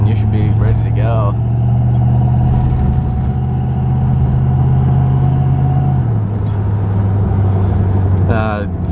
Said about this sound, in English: Flowmaster exhaust, you hear that thing no matter what you do, but it sounds really good